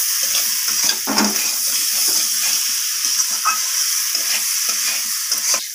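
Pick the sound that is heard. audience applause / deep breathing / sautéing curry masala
sautéing curry masala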